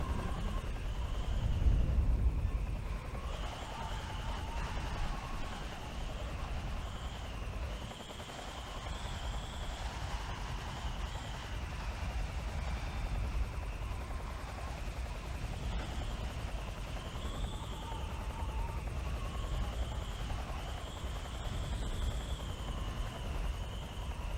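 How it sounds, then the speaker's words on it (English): A helicopter in the video game Metal Gear Solid 3: Snake Eater, a sustained rotor drone with a steady pulsing hum and whining engine tone, loud and continuous for the whole stretch with no talking. "So that means that I can take out this helicopter."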